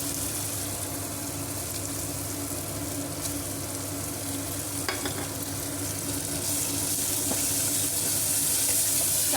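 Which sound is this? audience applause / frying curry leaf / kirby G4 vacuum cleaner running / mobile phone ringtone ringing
frying curry leaf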